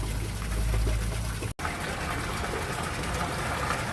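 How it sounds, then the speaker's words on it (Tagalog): A small electric pump pushes fresh water into a fishpond, giving a steady, loud gush with a brief dropout partway through. "na-on natin yung pump diyan at gumagana na nga"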